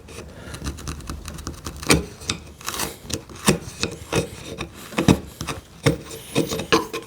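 A hand chisel pares and cleans up wood while building a TV unit, giving a series of short, crisp scraping and rasping strokes at an uneven rhythm, close and fairly loud, with no talking.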